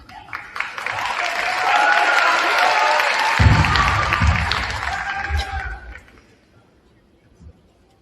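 Audience applause and cheering fill a school auditorium during an 8th grade promotion ceremony at Carver Middle School, a steady dense clapping that swells, holds for several seconds, then fades out abruptly, leaving near silence.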